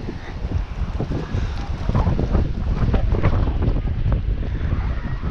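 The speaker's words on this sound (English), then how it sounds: "It's windy." Steady wind roars across the microphone, a constant loud rush with gusty low rumbling throughout.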